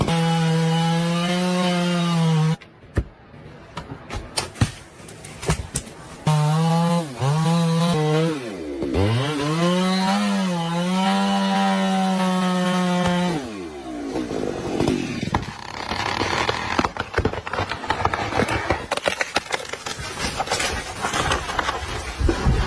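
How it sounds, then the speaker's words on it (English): A chainsaw cuts into a large tree trunk near a windy cliff edge on a mountainside. Its engine drones loudly and close, the pitch surging and dipping with a brief cutoff, then giving way to a rougher, grinding cut. "holding a roaring chainsaw, cutting into a large tree trunk near the cliff's edge"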